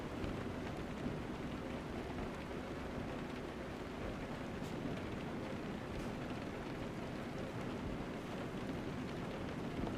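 Steady rain drums while a truck drives with a long trailer in Euro Truck Simulator 2, a constant, even wash of rainfall mixed with low road and engine rumble, with no voices.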